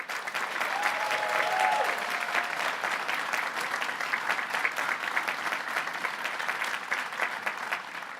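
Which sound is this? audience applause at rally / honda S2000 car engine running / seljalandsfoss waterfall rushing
audience applause at rally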